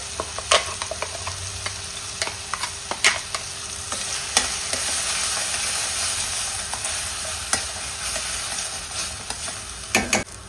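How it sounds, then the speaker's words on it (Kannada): Ground masala for fish curry sizzles steadily in a hot pan as it is stirred, with a spoon scraping and knocking against the metal at irregular intervals, close and continuous with no voices. "ಇವಾಗ ನಾನು ರುಬ್ಕೊಂಡಿರುವಂತಹ ಮಸಾಲವನ್ನು ಹಾಕ್ತಾ ಇದ್ದೀನಿ"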